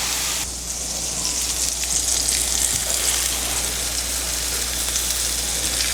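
Meat browning in a frying pan while making holiday stuffing, giving a steady, close, broadband sizzle that continues evenly throughout with no talking.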